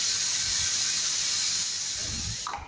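A pressure cooker on the stove steam-whistles in one long, loud, steady hiss while mutton trotters cook inside, fading slightly near the end.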